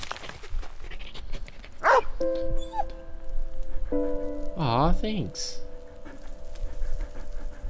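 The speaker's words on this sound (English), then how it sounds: "Doggy!" A dog in the video game Valiant Hearts yips, whimpers and pants over soft game music, with one louder bark-like cry in the middle, while a person speaks briefly.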